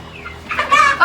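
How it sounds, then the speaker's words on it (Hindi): A farmyard rooster lets out a loud, close crow in rising bursts, the call swelling over about a second with a short renewed cry at the end. "ये चिल्लात है यार मुर्गा"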